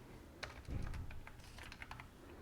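A domain name being typed on a computer keyboard sounds like quick, light key clicks in short bursts, close but quiet, with no voice.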